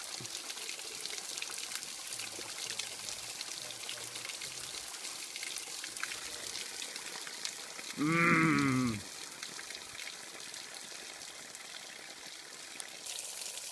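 Backpacker filling a water bottle from moss-fed water dripping down a creek on the Collins Gulf Loop in Savage Gulf State Natural Area: a steady close trickle throughout, with a short gurgling pour near the end.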